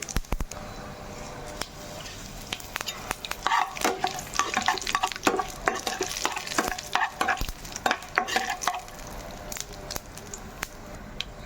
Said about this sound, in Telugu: ఇప్పుడు ఎండు మిరపకాయలు కూడా వేసుకుందాము. ఇందులో కొంచెం కరివేపాకు కూడా వేసుకుందామండి.